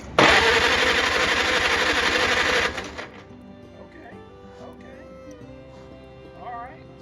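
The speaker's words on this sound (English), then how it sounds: "We're going to crank on the engine" A 1949 Farmall Cub tractor engine is cranked by its starter, a loud, steady rhythmic churning for about three seconds that cuts off, leaving quieter mechanical clicks and faint knocks.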